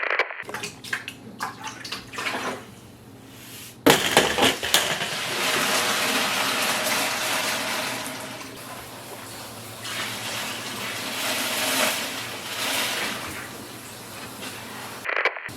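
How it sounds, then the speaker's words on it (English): Water pours steadily into a 15-gallon Fluval Flex aquarium tank already holding rocks, a loud, continuous splashing gush after a few softer clunks and trickles at the start, with no talking. "So now we're filling the tank with water."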